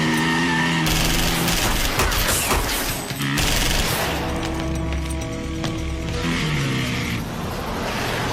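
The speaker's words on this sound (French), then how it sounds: "On dirait une fusillade." A fusillade of gunfire rings out in a French-dubbed Dwayne Johnson action film, sharp bursts of shots mixed under loud, sustained dramatic music throughout.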